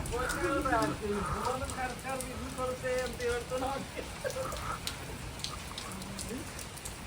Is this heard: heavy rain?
yes